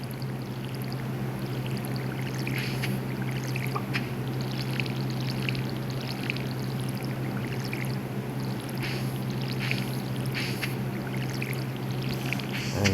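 Watering can being filled in the Stardew Valley video game, a continuous pouring, trickling water sound held steady for several seconds alone, over a low background hum.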